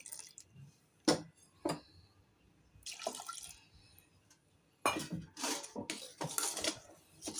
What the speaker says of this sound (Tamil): இந்த பால் சேர்த்துக்கலாம்